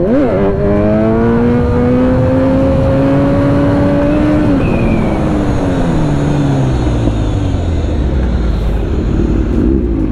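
Kawasaki 1000SX superbike engine revving hard as the rider pulls a wheelie, loud and continuous with rising and falling pitch sweeps, no talking over it.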